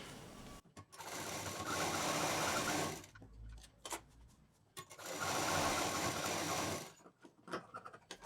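Sewing machine stitching the side of a zipper pocket on a patchwork bag, two long steady runs of rapid needle chatter separated by a pause with small handling clicks and fabric shuffling.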